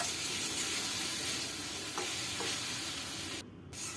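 Greens and fish stirred and fried together in a pan for a Bengali shak bhorta, a soft continuous sizzle with faint scraping of the spatula, no voices.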